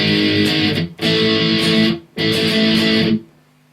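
Distorted electric guitar plays the bridge of a song in three loud, sustained strummed chord blocks separated by brief gaps, ending with the sound cut off and ringing down.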